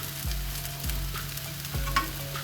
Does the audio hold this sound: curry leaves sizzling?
yes